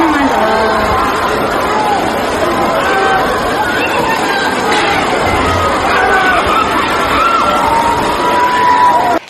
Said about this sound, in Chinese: 这是女生们在宿舍楼上大声呐喊的声音。